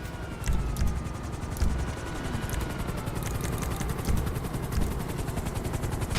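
Helicopter rotor in the GTA video game, a fast steady chopping pulse that stays continuous and fairly loud across the whole moment.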